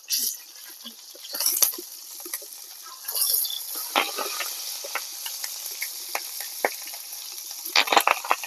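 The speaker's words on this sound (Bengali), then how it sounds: "পাতুরিগুলো পাল্টে দিয়ে আর 2-3 মিনিট উল্টে পাল্টে ভেজে নেব" Tilapia fish paturi, fish parcels being turned and fried in a pan, sizzling steadily with soft crackle and scattered clicks and scrapes of a turner near the start and end.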